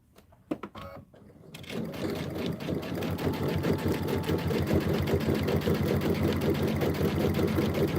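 After a few handling clicks, a sewing machine starts up and runs a steady straight stitch through a June Tailor Casablanca project, fast even needle beats continuing close and loud to the end.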